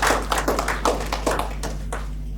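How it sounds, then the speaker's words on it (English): A short burst of applause at a community NGO gathering in Goa, welcoming a speaker on stage; several sharp claps ring out over a steady low hum, thinning out after a couple of seconds. "A huge round of applause for National RTI."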